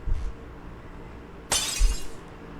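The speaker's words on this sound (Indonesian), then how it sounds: "suara kaca pecah coy." Glass shatters in a horror video game, a single sharp bright crash with scattered tinkling debris following, loud and close, with a faint low thud just before.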